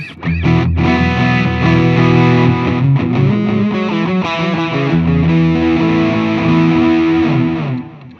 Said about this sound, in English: You can hear that delay.